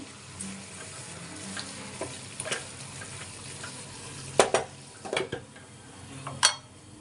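Butter chicken sizzles steadily in a pan while a utensil scrapes and clinks against the metal in several sharp bursts, close and fairly loud, with no talking.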